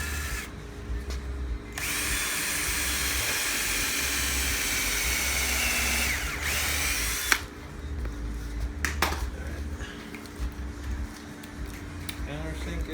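Power drill countersinking screw holes in a wooden wine barrel chair: loud whirring drill bursts, the first two sustained and a few shorter ones later, with people talking in between.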